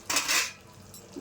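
A metal lid set onto a cooking pot of simmering amaranth-leaf curry, one brief bright clang followed by a softer settling clink.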